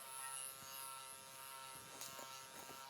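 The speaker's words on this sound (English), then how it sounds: "This is my first time using this clipper." Wahl Vapor hair clipper buzzing steadily during a self haircut, a close, continuous electric hum with faint clicks and brushing movements against the hair.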